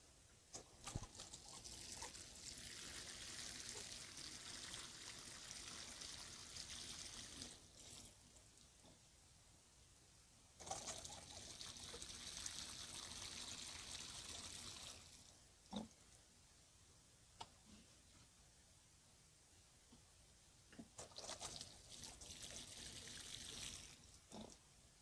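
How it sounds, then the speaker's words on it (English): Water poured onto the soil of a freshly transplanted plumeria plant, three long bursts of rushing, splashing flow separated by quiet gaps with faint drips, close and steady, no talking. "Now I'm going to give it a good water."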